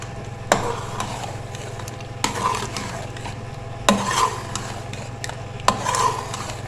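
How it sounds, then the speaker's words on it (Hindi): Chicken being mixed for BBQ chicken biryani, a spoon scraping and stirring the pot in repeated strokes with sharp knocks against the vessel, over a steady low hum. "अब चिकन को करेंगे अच्छे से मिक्स।"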